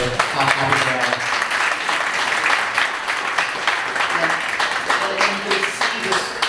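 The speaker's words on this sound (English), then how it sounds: "I just want a round of applause just for how happy they are" Wedding guests applaud steadily at a sangeet or reception celebration, a dense wash of many hands clapping throughout, with faint voices and some music mixed underneath.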